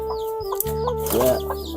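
Chickens on a farm cluck in short repeated calls close by, a few overlapping squawks over steady background noise.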